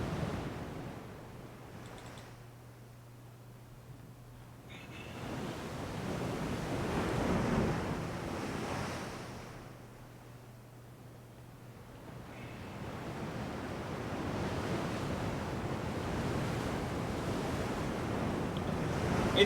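Ocean waves surge and wash in a naval warfare video game, a broad steady rush of surf that swells and ebbs in slow cycles, with a faint low hum beneath.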